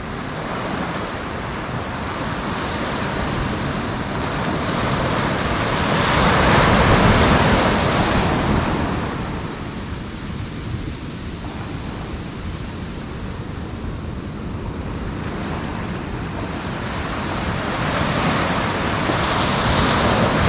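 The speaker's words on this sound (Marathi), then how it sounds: "पाण्याचा आवाज ऐकायला एवढं बरं वाटतंय" Steady rushing surf on a Konkan coast beach fills the clip, swelling and easing in broad waves, with no voices.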